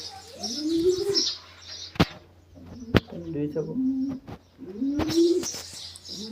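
Pigeons coo in low rolling phrases close by, broken by a couple of sharp wing claps and flapping, with faint chirps in the background.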